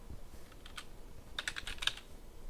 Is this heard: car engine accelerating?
no